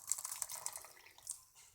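Hot boiled water pours over deshelled ginkgo nuts in a bowl, a faint, brief liquid splashing and trickling with small clicks as it runs over the nuts.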